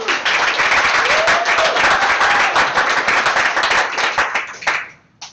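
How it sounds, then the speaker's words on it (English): An audience bursts into dense, sustained applause at a London Gaymers town hall gathering, with loud continuous clapping that tapers off near the end. "Everybody applause."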